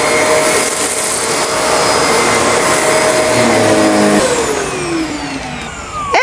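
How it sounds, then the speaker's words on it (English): Shark NV352 upright vacuum cleaner running loud and close as it sucks chips off carpet, a steady whining roar throughout, with a falling pitch sweep partway through and rattles as debris is picked up. "All right, and now for the chips."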